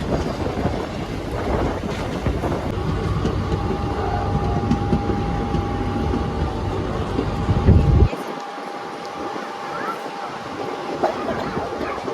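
Yelagiri Express passenger train rumbles along on a crowded journey from Jolarpattai toward Chennai, a loud continuous rolling roar with wind buffeting that cuts to a quieter, thinner hum near the end.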